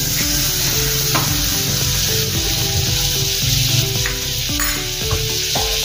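Butter sizzling steadily in a hot pan as the base for dal makhani, a continuous loud hiss with crackle and occasional stirring, no voices.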